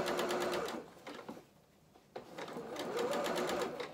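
A sewing machine stitches along the edge of a fabric top, its rapid, close needle chatter running in two bursts separated by a brief quiet pause.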